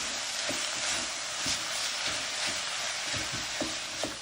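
Garlic sizzles in a pan while a utensil stirs it, scraping and knocking about every half second over a constant frying hiss, close up, with no talking.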